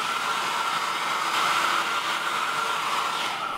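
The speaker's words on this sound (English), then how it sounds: "And I'll use a blow dryer to speed up the drying process." A handheld blow dryer aimed at fresh paint on a canvas runs as a constant, close whooshing roar for a few seconds, steady and alone.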